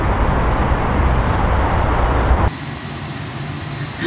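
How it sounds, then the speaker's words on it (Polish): Loud, broad roar of a turbofan jet engine, steady and dense for a couple of seconds before dropping abruptly to a quieter, thinner rushing hum. "Jesteśmy w silniku turbowentylatorowym."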